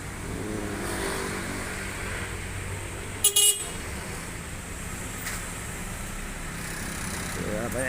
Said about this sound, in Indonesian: banyak yang klakson guys ya